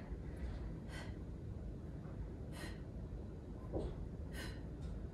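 Heavy exercise breathing during a Tabata workout, with forceful exhales repeating roughly every second or two against a steady background hum, close to the microphone and without talk.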